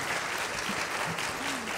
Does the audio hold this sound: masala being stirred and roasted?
no